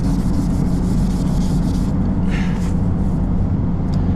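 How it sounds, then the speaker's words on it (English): A panel on a Lexus CT 200h being hand sanded with sandpaper, close, loud and steady rubbing strokes in a brisk rhythm over heavy low rumble, easing slightly partway through. "I can sand this by hand from here"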